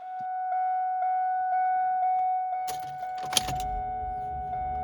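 A 2001 Mustang Bullitt on a big battery charger: a steady warning chime beeps repeatedly, then a harsh burst of starter cranking as the engine catches and settles into a low, rumbling idle.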